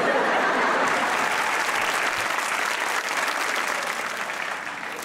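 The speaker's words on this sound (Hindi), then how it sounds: "प्लीज तालियां मारिएगा" Sustained applause from a studio audience on a Pakistani television talk show, loud and dense for about five seconds before easing off slightly at the end.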